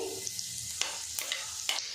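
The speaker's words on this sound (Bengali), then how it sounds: "রসুনটা আমি ভাজা করে নেব।" Garlic sizzles and crackles steadily in hot oil, with a few scraping stirs of a utensil against the pan.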